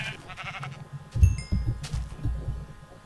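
Sheep bleating in the video game Minecraft, a couple of short bleats near the middle over low background hum, fairly close and moderately loud.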